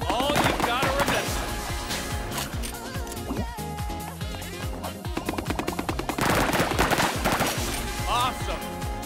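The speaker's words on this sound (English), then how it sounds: "Now blast that foam, no holding back." Foam blaster shooting in the PS5 game Foamstars, a steady run of rapid, punchy shots like automatic fire layered over busy game music, with brief gaps and a renewed loud burst later on.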